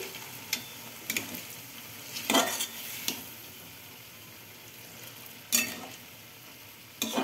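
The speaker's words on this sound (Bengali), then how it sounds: "এবার জল দিয়ে দিচ্ছি।" Sim (flat bean) curry in a pan sizzles faintly while being stirred, with several distinct scraping and clinking stir strokes spaced a second or two apart, close by and without talk.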